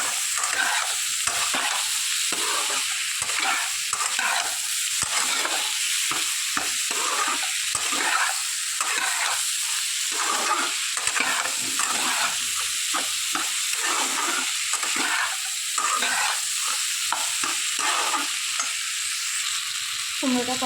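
Pumpkin pieces sautéing with salt and turmeric, a constant hissing sizzle broken by rhythmic scraping strokes of a spatula stirring in the pan, close up and without speech.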